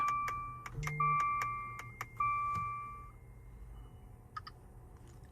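Electronic keypad beeps from a Ghost 2 immobiliser as a PIN is entered in a 2017 Maserati Levante: a series of short, sharp tones, some held longer, spaced irregularly over a quiet cabin background, followed by two faint blips.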